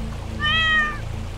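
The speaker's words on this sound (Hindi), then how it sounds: "बिल्ली गलती से जाल में गिर गया।" A cat caught in a trap gives a single drawn-out, rising and falling meow over a steady low hum, with no talk.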